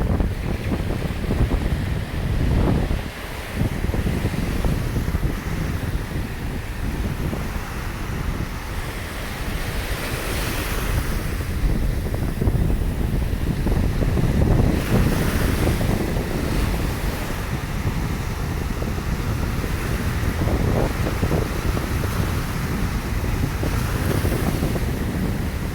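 Ocean waves roll in steadily at Panama City Beach near the pier on a Tuesday morning, a continuous surf roar with wind gusting across the microphone and periodic swells rising in loudness.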